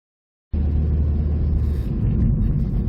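Steady engine and road rumble inside a 2014 Volvo V40 1.6 T2 R-Design on the move, starting abruptly after a brief silence and continuing as a constant, fairly loud cabin drone with no talk.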